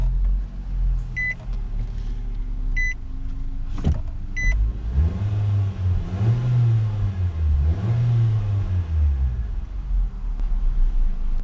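A 2018 Nissan Sentra SR Turbo with push-button keyless start gives three soft chimes, then the engine cranks and catches with a sharp burst, settles briefly and revs up and down twice, heard close from the cabin.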